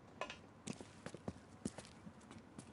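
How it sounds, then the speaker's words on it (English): Horse hooves clip-clop in the L.A. Noire game world, an irregular walking rhythm of sharp hoof strikes at moderate distance over a quiet background. "But I thought that was real horses."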